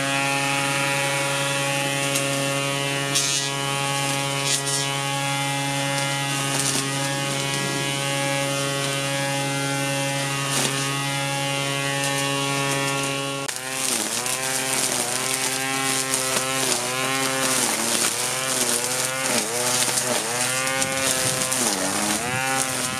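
A Kärcher 18-30 cordless garden strimmer runs with a steady high electric whine, then midway its pitch repeatedly dips and recovers as the line meets vegetation, loud and close throughout.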